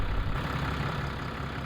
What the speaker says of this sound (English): let's leave the tractor running.